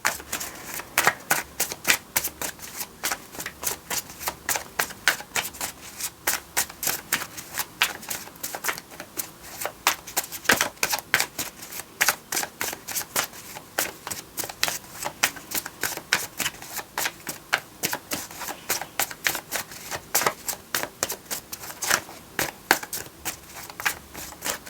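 Tarot cards being shuffled by hand, a steady run of rapid crisp riffling flicks and slaps that continues unbroken for the whole stretch, close and clear with no talking.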